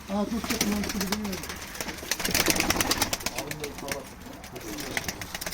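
Young pigeons cooing at a live pigeon auction, repeated soft throaty coos close by with wing flutters and background chatter from people.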